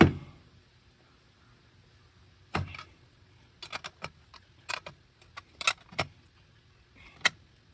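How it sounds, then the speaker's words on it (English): A wrench clicks and clanks while tightening the nuts on a hot tub heater element, making a scatter of short, sharp metallic ticks in uneven bursts against near silence, close by and moderately quiet. "go ahead and use your wrench and tighten these babies up"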